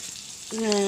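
Butter starts sizzling in a hot pan for a home-style paneer masala curry, a soft hiss that swells suddenly halfway through and holds steady, crackling and fairly close, with no talking.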